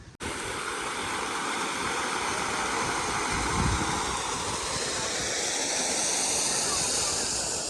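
Water flows steadily through a garden park, a continuous close rushing wash that holds at an even level throughout with no break.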